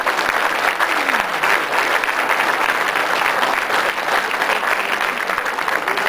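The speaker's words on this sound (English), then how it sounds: "And they really deserve a round of applause." Sustained applause from a conference crowd at ACRES 2005, honouring office staff; steady, dense clapping throughout, loud and fairly near.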